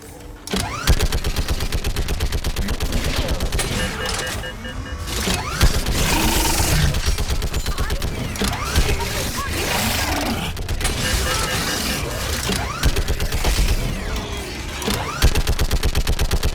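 Rapid, sustained automatic weapon fire in the Mass Effect 3 video game, with close, rhythmic bursts and mechanical clatter that barely let up, under a busy combat mix.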